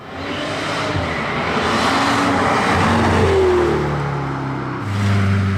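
A car approaches on a road and roars past, its engine loud and rising, then easing before revving again, heard alone with no talk.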